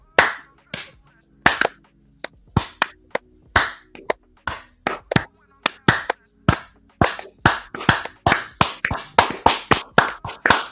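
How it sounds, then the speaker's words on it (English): Slow, steady hand clapping from a single person, each sharp clap separate and close, the pace quickening slightly toward the end, with no talking over it. "Yo, slow clap."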